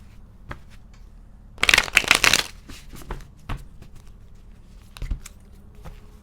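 Tarot cards from the Light Seers deck being shuffled, a loud riffling burst followed by scattered lighter taps and slides of cards, close by with no talk.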